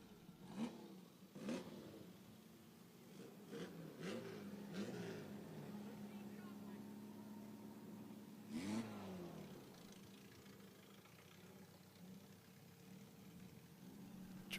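Race car engines rev at the podium, a few throaty blips and revs rising and falling at moderate distance, quieter idling rumble between them.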